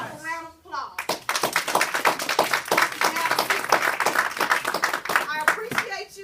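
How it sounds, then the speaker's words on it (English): Close, sharp hand claps, distinct and uneven, from an audience at a motivational education talk, with speech just before and after the clapping. "a round of applause"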